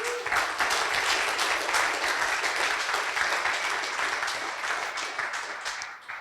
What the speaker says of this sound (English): give a round of applause to yourselves